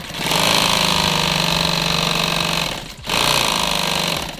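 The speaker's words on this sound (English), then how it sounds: "I'm gonna take my liner piece and I'm just gonna sew this in half." A sewing machine stitches a nylon liner piece in half, a loud, fast mechanical whirring that runs steadily, dips briefly near the end, then resumes.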